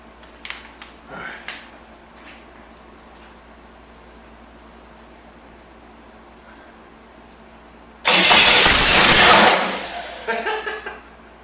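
A junkyard engine for a 1972 Corvette, mounted on a garage floor, cranks and roars to life with a loud, raw, open-exhaust burst lasting about two seconds, then drops back, with faint talk before it.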